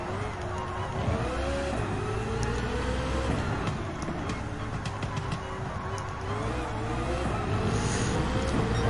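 A race car in Gran Turismo 7 howls through a hairpin turn on its fifth lap, its engine note dipping and rising steadily and loud with tyre and track noise underneath.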